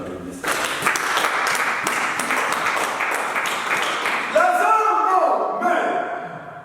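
A church congregation applauds at length, a steady wash of clapping with some voices mixed in, then it thins toward the end.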